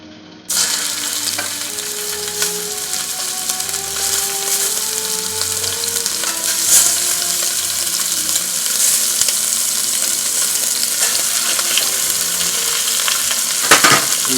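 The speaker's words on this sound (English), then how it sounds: "I'm going to add some olive oil, just a little bit. And start adding the beef to it." Beef browning in a little olive oil in a preheated pot gives a loud, steady sizzle that starts abruptly and holds dense and even throughout, with faint scrapes and a few light clinks near the end.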